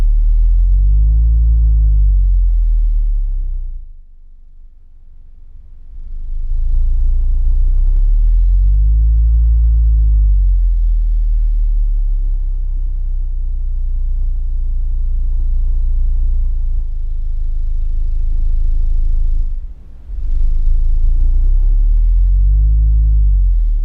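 A Skar Audio SVR 12-inch car subwoofer plays a 20 Hz bass tone, a loud, deep rumbling hum that swells and fades in long pulses, with two brief dips, and no other sound.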